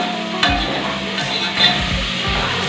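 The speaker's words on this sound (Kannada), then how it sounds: "ಈ ಥರ ಎಗ್ಸನ್ನು ಫ್ರೈ ಮಾಡ್ಕೋಬೇಕು." Eggs sizzle in a hot pan with a steady frying hiss, broken by a few scraping stirs of a spatula against the metal at roughly regular intervals.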